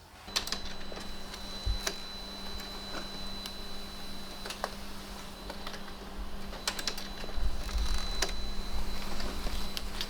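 A label printer runs a steady mechanical whir with periodic clicks and clatters the whole time as it feeds and prints a sheet of labels, with a low hum underneath.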